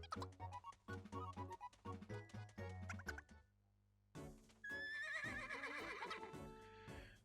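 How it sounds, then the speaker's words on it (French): A horse whinnies loudly in a Miitopia game scene, a shrill rising neigh over busy music and effects, following a stretch of rhythmic melodic sounds and a brief lull. "Un cheval en détresse."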